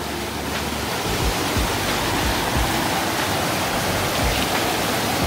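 A mountain stream rushes through a mossy forest valley at Jangjeon moss valley, with a loud, continuous broadband roar of water over rocks heard close by.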